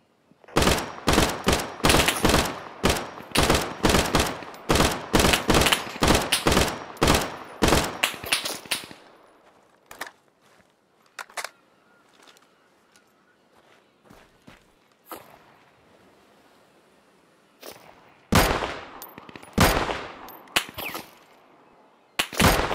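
In the video game Deadside, loud rapid gunfire crackles in dense bursts for about nine seconds, then scattered distant shots follow, and close heavy bursts return near the end.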